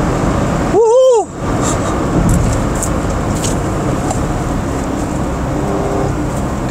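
A Suzuki S-Presso with its three-cylinder engine hums steadily while driving, heard from inside the cabin with road noise, a brief rising whine near the start, and a voice talking over it.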